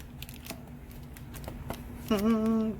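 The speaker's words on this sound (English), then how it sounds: "Please don't use scissors like I'm using." Several quick crisp snips as scissors cut through starter-kit packaging, followed by a brief tonal squeak and faint background hum.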